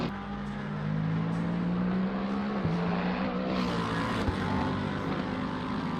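Mercedes and BMW GT3 race cars roar around Mount Panorama in a racing game, a loud sustained engine drone with a rising and falling pitch as they run bumper to bumper, with commentary talk over it.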